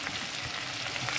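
Tomatoes and potatoes fry in a pan with a steady close sizzle and faint stirring, no voices over the crackle.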